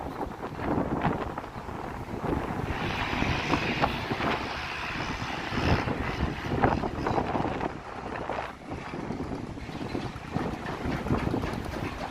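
Strong, cold wind roars and buffets outdoors along Bloor Street in Toronto, a steady turbulent rush with gusts swelling and dipping throughout; no voices.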